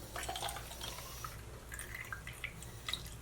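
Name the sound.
water being poured into a container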